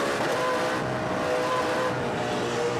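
Race car engines drone loudly and steadily as the cars power out of corners on worn tires late in a race, a continuous roar with no pauses and no voices.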